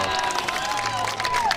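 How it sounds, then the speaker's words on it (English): A big crowd at the Desert Ridge pickleball open applauds and cheers after a long mixed doubles point, a steady wash of clapping with scattered whistles and calls. "Big crowd here at the Desert Ridge. Very appreciative of the high skill level shown by all 4 players on that point."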